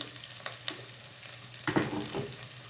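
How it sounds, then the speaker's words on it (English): Onions frying in a pan for tomato soup, a steady close sizzle with a few light stirring clicks and a louder burst of crackling partway through. "I'll cook the onions until they are translucent"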